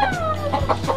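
A hen clucks close by in a brief series of short, throaty notes.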